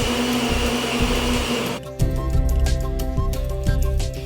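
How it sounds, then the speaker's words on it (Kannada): A kitchen mixer whirs loudly as it blends banana, peanuts, cardamom powder and water for a smoothie, its motor pitch shifting and pulsing partway through as the load changes. "ಮೊದಲಿಗೆ ಬಾಳೆಹಣ್ಣು, ಕಡಲೆಕಾಯಿ ಹಾಗೂ ಬೇಕಾದ್ರೆ ಸ್ವಲ್ಪ ಏಲಕ್ಕಿ ಪುಡಿ ಮಿಕ್ಸರ್ಗೆ ಹಾಕಿ."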